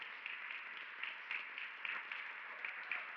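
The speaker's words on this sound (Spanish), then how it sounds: "denle un aplauso a Él." A church congregation claps steadily and softly at a distance, a dense patter of many hands with no voices over it.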